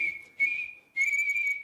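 A man whistles sharply in imitation of a police whistle, giving two sustained shrill blasts separated by a short gap, loud and close with no other sound.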